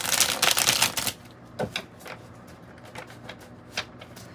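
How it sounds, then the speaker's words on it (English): A deck of oracle cards is shuffled by hand, a dense papery riffle at first, then scattered soft flicks and taps, close and fairly quiet. "I'm going to shuffle it again"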